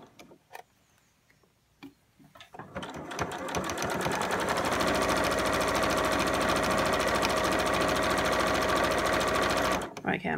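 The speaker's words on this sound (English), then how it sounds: "I'm going to do some backward stitching to secure the ends and then finish" A sewing machine stitches a fabric scrubs bag for NHS uniforms, starting after a few clicks and then running in a fast, steady, close mechanical whir for several seconds before stopping, with brief talk around it.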